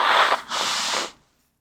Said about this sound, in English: Let me blow my nose real quick.